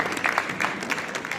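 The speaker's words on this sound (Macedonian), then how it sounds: "Аплауз." An audience at a bridal fashion show at a Skopje wedding expo gives brief applause, a light, uneven patter of hand claps with a few sharper bursts over about a second and a half.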